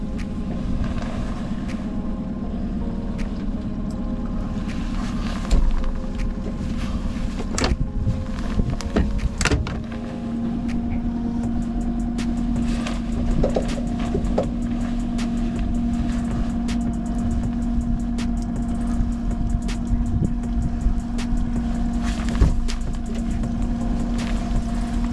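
A boat engine idles in slight forward gear while salmon fishing near Juneau, Alaska, a steady low drone running throughout with a faint hum, scattered knocks and clatter on board, no voices.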